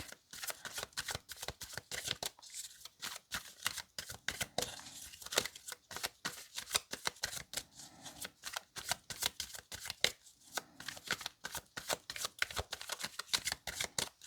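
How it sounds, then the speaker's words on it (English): Tarot cards are shuffled over and over in quick, crisp riffling bursts, a dense rapid flutter that continues throughout with no voices. "I'll shuffle a little bit more and then I'll cut the deck."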